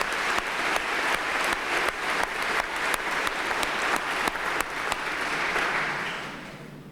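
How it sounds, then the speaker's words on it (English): Sustained applause from an audience at a Cleveland police academy graduation, steady clapping throughout with a few sharper claps standing out, fading slightly near the end. "Please give them a round of applause."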